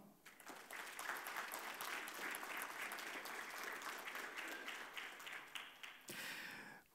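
A crowd at a foundation thank-you and awards ceremony applauds loudly for VIP guests, a sustained, dense wash of clapping that fills the room and carries on for several seconds before briefly dropping near the end.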